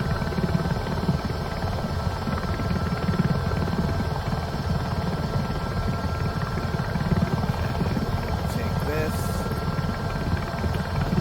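A Robinson helicopter in Microsoft Flight Simulator 2024 drones with a constant rotor and engine hum, heard steadily beneath someone talking.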